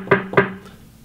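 Two dull, muffled snare drum hits in quick succession with the high frequencies filtered out, the second slightly louder, the bright crack dulled away and a short ring fading afterward.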